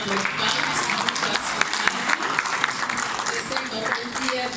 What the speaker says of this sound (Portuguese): Uma forte salva de palmas para